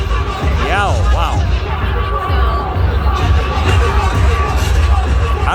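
Dense, loud crowd noise at New York City's LGBT Pride street festival, with constant babble, distant cheering and whoops, and a close voice speaking over the din.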